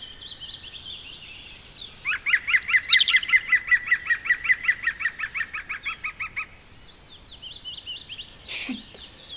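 A female common chaffinch sings a bright, rapid trilling phrase of repeated notes that descends and ends in a flourish, fairly close, followed by a short sharp call.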